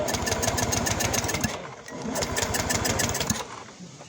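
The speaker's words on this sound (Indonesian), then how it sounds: "Posisikan kontak on dan lakukan pengengkolan atau starter." Honda Beat ESP scooter engine cranked and started with the ignition on, a steady rattling mechanical drone with a brief dip partway through, close and continuous with no talk.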